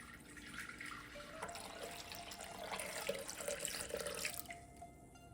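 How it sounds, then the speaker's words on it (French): Lukewarm water poured onto yeast in a home kitchen while making baghrir, a steady splashing trickle lasting several seconds at close range, then tapering off near the end. "J'ajoute ensuite l'eau. L'eau, je l'ai au préalable tiédie, donc légèrement tiédie, et je la verse sur ma levure."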